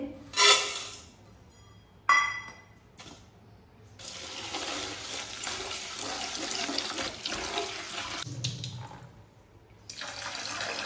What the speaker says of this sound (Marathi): ते स्वच्छ असे धुवून घेते पाण्याने